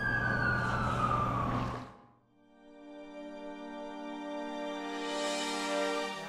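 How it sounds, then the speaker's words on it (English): Ambulance siren in the Amazing Spider-Man 2 video game on PS4: a loud wailing siren sweeps down and cuts out, then a second siren tone rises and holds steady, with no talk. "That's the ambulance I called."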